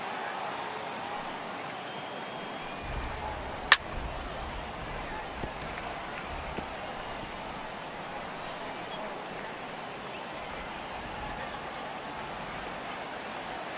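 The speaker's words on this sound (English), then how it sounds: "It's raining cats and dogs out there." Heavy rain pours over a baseball stadium in a Phillies vs. Padres franchise-mode baseball video game, a steady dense hiss with a sharp crack near the start and a few faint knocks after.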